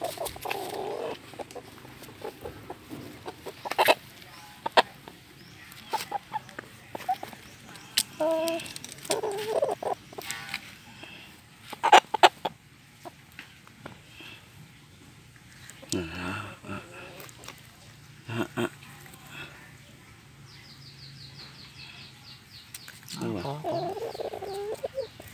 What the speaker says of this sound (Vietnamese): Gà này gọi là gà lưỡi rùa các bạn.